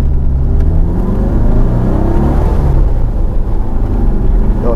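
A Porsche 914 engine rumbles and revs steadily while accelerating in first gear, loud and close, with a low droning growl throughout and no talking.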